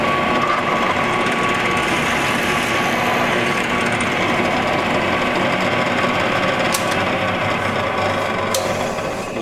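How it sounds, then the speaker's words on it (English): A drill press whirs steadily as the bit bores slowly into wood, a continuous grinding hum with no talking. "Drill our hole nice and slow"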